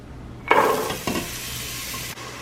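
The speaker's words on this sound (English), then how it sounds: "I am going to add a mirepoix, which is onions, carrots, and celery" Diced onion, carrot and celery hit a hot soup pot with a sudden loud sizzle, followed by a second burst as they are stirred, then a steady softer frying hiss.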